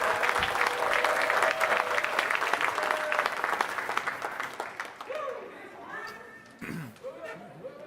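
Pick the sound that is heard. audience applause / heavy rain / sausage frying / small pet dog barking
audience applause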